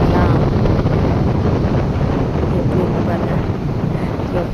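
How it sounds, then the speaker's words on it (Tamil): Strong seaside wind at Kovalam beach, India, roars steadily across the microphone, a dense continuous rush with a faint watery wash beneath, loud and unbroken throughout. "மேலே செம்ம காற்றுங்க கொஞ்ச நேரம் நிற்க முடியல அவ்வளோ காற்று"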